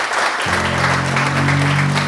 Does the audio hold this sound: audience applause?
yes